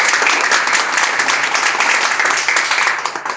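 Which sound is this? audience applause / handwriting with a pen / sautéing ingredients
audience applause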